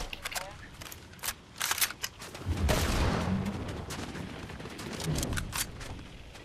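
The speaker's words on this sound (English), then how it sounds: "Behind us, shooting at me." Gunfire in the video game Fortnite. Sharp shots crack out in scattered bursts, some close and loud, one longer volley in the middle, with players talking between the shots.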